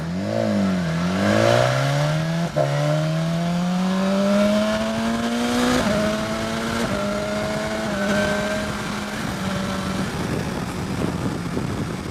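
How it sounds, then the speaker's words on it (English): A 2016 BMW S1000XR motorcycle's 1000cc engine revs hard and climbs steadily in pitch, loud and close, with brief dips as it shifts, then settles into a sustained high drone. "I love how quick this 1000cc engine revs"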